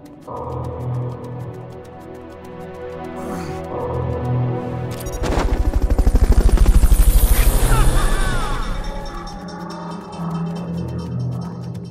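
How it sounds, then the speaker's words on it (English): A Fulton recovery helicopter in Metal Gear Solid Peace Walker swells from a steady throbbing rotor hum into a loud, close roar around the middle, then eases back, set against game music and effects with no talk. "Fulton recovery helicopter is complete."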